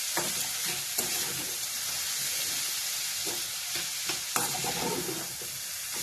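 A cutlet mixture sautéing in a pan over medium gas, a continuous close sizzle with occasional sharp scrapes and clicks of stirring, no voices.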